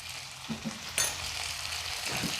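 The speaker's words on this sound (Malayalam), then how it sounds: "ഒരു മീഡിയം സൈസ് സവാള അരിഞ്ഞു വെച്ചിരിക്കുന്ന അതും കൂടെ ചേർത്തേക്കാം" Chopped medium onion sizzling with salt in a pan for a chicken mango curry, a steady close frying hiss with a couple of soft stirring knocks and a sharp clink near the middle.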